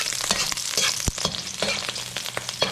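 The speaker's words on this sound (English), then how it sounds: "I'll start off with sauteing garlic." Garlic sautéing in a pan, a close, steady crackling sizzle of oil with occasional stirring scrapes and pops, no voices.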